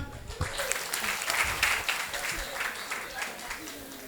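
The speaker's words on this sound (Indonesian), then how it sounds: "Boleh tepuk tangan untuk Gus Hanis teman-teman" An audience applauds at a stand-up comedy roast show in Rembang, Indonesia, with sustained, dense clapping filling the room and a crowd murmur beneath it.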